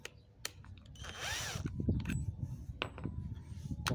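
A power drill runs in short bursts while a camera is fixed into a mounting box, the whirring motor loud and close with brief clicks between pulls of the trigger.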